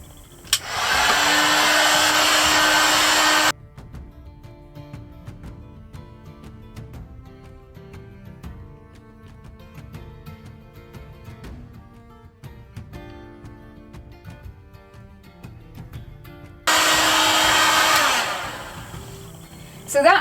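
A heat gun blows loudly as it heats dry leather, running steadily for about three seconds, switching off for a long quiet stretch with faint background hum, then roaring again near the end.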